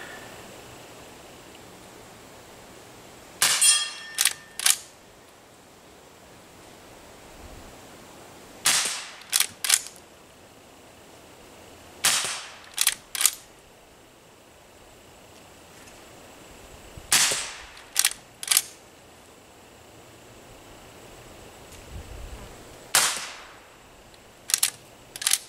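A Henry H 001 rifle fires CCI CB 22 short pest control rounds, five sharp, quiet cracks spaced several seconds apart, each followed by quick metallic clicks of the action, with a hushed outdoor background between shots.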